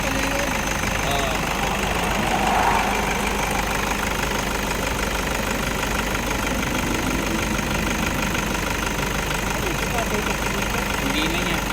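Broken-down Toyota Innova on an expressway, its engine idling in a loud continuous rumble with a faint rhythmic knock, steady throughout while nearby voices talk over it.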